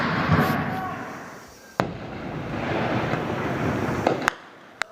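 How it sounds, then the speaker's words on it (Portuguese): Gunfire and bomb blasts during a bank robbery at a Banco do Brasil branch in Ipanema: a few sharp, isolated bangs crack out from a distance over a steady rumble of background noise. "Durante todo o tempo, foi possível ouvir barulhos de tiros e bombas."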